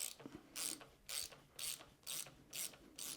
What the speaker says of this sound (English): insert it into the top cap, and remove by turning counterclockwise